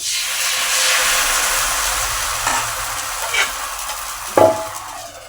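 Neer dosa sizzling on a hot pan, a loud, steady hiss that eases slightly over time, punctuated by a few brief scraping or tapping sounds near the end.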